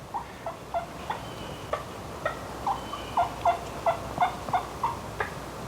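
A wild turkey gobbler gobbles outdoors in a steady run of repeated calls, moderately distant and clear over a faint background hush, with no talk.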